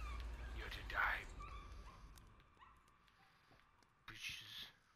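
A dog in the video game Layers of Fear gives a short whimpering yelp at about one second and another whine near the end. Quiet ambience and faint talk sit between them.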